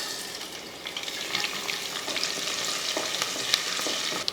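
Steady crackling sizzle of tempering spices frying in hot oil, with a few sharper pops over the continuous hiss, close up and fairly loud.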